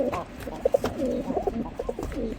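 A group of seven single male pigeons coo nearby in a series of low, throaty calls, some overlapping, with a couple of sharper notes standing out.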